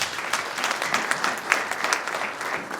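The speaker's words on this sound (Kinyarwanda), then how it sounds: "Komera Imana amashyi." A church congregation applauding during a pastors' ordination ceremony, a dense, steady burst of many hands clapping together, fairly loud and sustained throughout.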